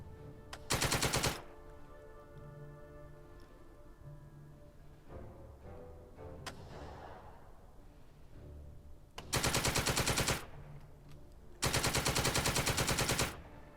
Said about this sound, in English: Germans rallied and have repaired their air-to-air machine gun